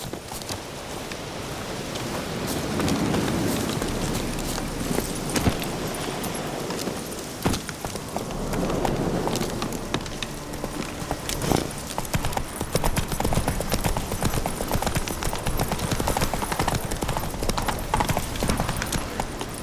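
Roach, a horse in The Witcher 3, gallops with continuous rhythmic hoofbeats over rain-like ambience, steady and fairly loud throughout.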